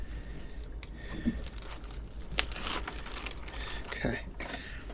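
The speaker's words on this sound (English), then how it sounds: "here's my plastic bag" A plastic bag crinkles and rustles up close in a garage setting during a ZF transmission fluid change, with scattered sharp crackles and handling noises over a steady low hum.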